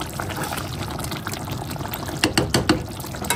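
Milk poured into a pot of tehari meat cooking on the stove, heard as a soft liquid pour and splashes with a few brief louder spatters near the end, with no talk.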